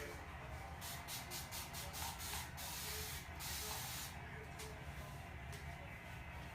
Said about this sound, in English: You want to put some spritz on your hair.